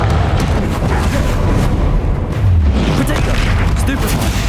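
A Confringo spell explosion in the video game Hogwarts Legacy booms loudly amid a dense, continuous wash of spell-combat blasts and rumbling, with a low thud standing out midway through.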